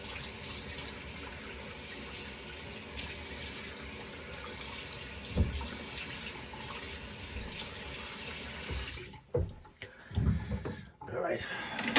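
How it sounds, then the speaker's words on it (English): Running tap water splashes steadily at close range as a shaving razor is rinsed, then cuts off near the end, followed by a few uneven splashes and handling noises. "Quick rinse."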